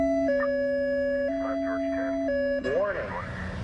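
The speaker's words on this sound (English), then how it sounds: "what you just heard there was a high-low siren from a Napa County Sheriff Patrol car" A Napa County Sheriff patrol car's high-low siren during a wildfire evacuation, alternating between two steady tones in a slow regular cycle, loud and nearby, then giving way to a rising wail and background noise.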